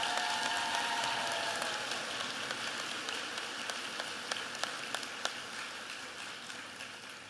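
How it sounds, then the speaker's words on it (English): A ceremony audience at a nursing pinning event claps in a steady, fairly distant wash of applause that fades slowly, with a few sharper individual claps standing out. "Please give them a round of applause."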